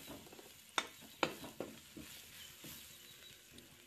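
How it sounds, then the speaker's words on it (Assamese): Spatula stirring fish curry with cumin and turmeric in a pan, a few sharp scraping clicks in quick succession over a faint frying hiss, close and quiet. "এতিয়া মই আকৌ হেতাখনেৰে ভালদৰে লৰাই থাকিম।"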